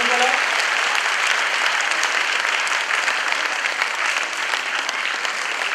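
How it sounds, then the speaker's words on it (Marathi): An audience claps steadily to welcome student volunteers at a club event, a dense, loud round of applause lasting the whole stretch with no voices over it. "सगळ्यांनी एक टाळ्या वाजवून एकमेकांचं स्वागत"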